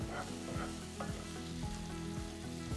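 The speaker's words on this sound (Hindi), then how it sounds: "अब इसको 5 मिनट तक अच्छे से पकाना है ताकि मेथी का कच्चापन निकल जाए।" Fresh fenugreek (methi) leaves sizzle in a pan for a dhaba-style methi malai matar, a steady, close frying hiss running throughout with occasional stirring.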